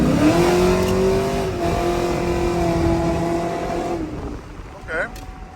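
A cammed GMC Sierra/Silverado pickup with exhaust valves closed rumbles loudly and steadily in a deep droning tone, easing off near the end.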